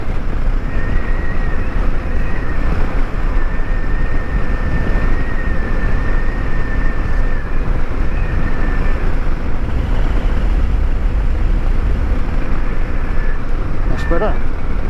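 A Royal Enfield Himalayan 450 motorcycle cruises in top gear at about 50 mph and 4,000 rpm through the New Forest, a steady engine drone mixed with constant wind rush. A rider's muffled voice is heard over it.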